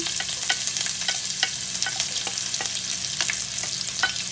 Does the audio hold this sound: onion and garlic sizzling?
yes